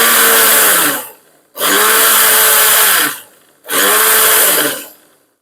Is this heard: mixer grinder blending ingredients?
yes